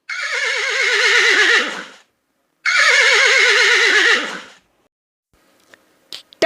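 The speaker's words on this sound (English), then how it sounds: "Horse." A horse whinnies loudly twice, each long wavering neigh lasting about two seconds with a short pause between, followed by faint scattered noises.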